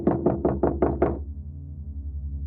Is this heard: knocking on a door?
yes